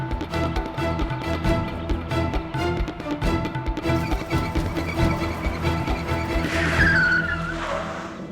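A car being driven in a chase scene sounds under a dense dramatic music score, with a rising tire squeal near the end.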